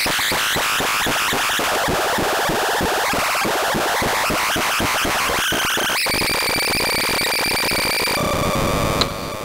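A Eurorack Tabør synth module sends its sine and even outputs together, giving a dense buzzing, churning tone with rapid pulsing that shifts into steadier harmonic drones near the end, loud and continuous with no talk.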